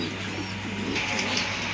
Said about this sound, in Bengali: অ্যান্ডালুজিয়ানের ভিতরে একজোড়া ড্যানিশ কবুতর